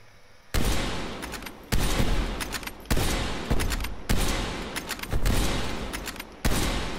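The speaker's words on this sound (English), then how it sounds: "They're using fucking assault rifles" Assault rifles fire in a chaotic multiplayer shooter battle: about six loud, close bursts of rapid gunfire, each breaking off into brief gaps and echoing tails.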